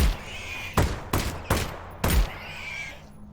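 Pistol gunfire in the VR game Half-Life: Alyx: four sharp, close shots fired in quick uneven succession, each with a short echoing tail, with no talk.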